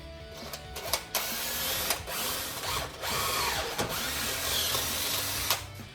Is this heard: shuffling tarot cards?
no